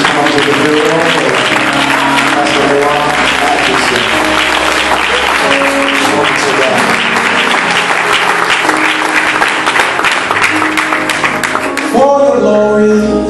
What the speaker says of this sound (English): I want you to clap your hands and welcome him to the pulpit again